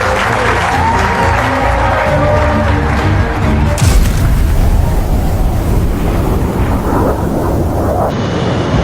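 Loud, sustained applause from a large crowd at a Top Gun class graduation, a dense wash of clapping that continues steadily throughout with a brief shift partway.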